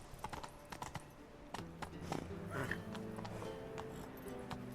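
Hooves of the horse Roach in the video game The Witcher 3, a quiet steady clip-clop trotting rhythm with faint talk over it.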